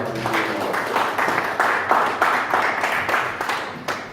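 A congregation claps together during a church sermon, a burst of dense hand claps with a steady pulsing rhythm, fairly loud and close, with no speech over it.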